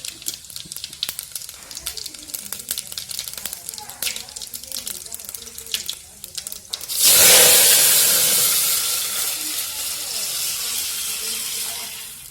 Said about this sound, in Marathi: तर पाणी उकळी होत